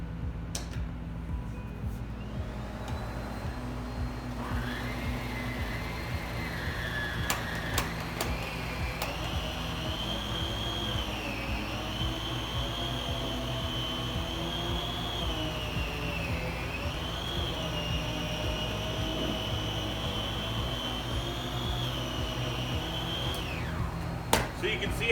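Miele Complete C3 PowerLine canister vacuum with its power head on soft carpet, drawing up pet hair: a steady, loud motor whine and whoosh of suction running continuously throughout, with the pitch shifting slightly as the head moves.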